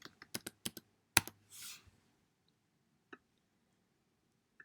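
Short bursts of typing on a computer keyboard while entering a machine's current hours in an equipment maintenance tracker, crisp clicks in a quick cluster, then a brief rustle and an isolated later keystroke, close and quiet.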